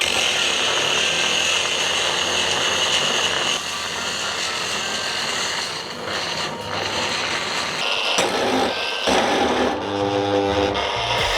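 A CROWN CT13677 angle grinder runs at its minimum speed, giving a continuous loud whirring drone that dips slightly midway and near the end.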